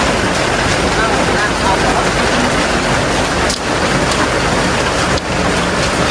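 Heavy rain falls steadily in a loud, dense hiss that continues throughout, with a couple of brief dips in the wash of sound.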